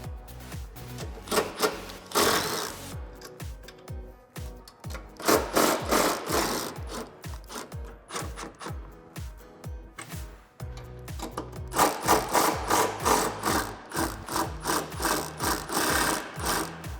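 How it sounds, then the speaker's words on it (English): A ratchet works loose the four 13mm nuts on the strut tower of a 2005-2014 Mustang during a spring and shock install, making repeated rhythmic clicking strokes in bursts, close and moderately loud with no talking. "you can see it's held on by 4 13mm nuts, and we're going to be loosening all of them"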